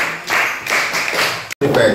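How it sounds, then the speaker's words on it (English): Students at a basic school debate clap for themselves in short, loud bursts of clapping with brief pauses between them, ending in a sudden cut before the clapping resumes. "You clap for yourself."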